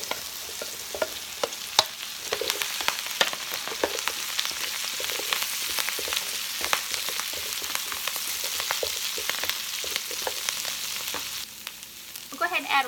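Two pounds of Brussels sprouts seasoned with salt and pepper fry in a pan with a steady, close sizzle and scattered crackles and pops, plus occasional stirring sounds.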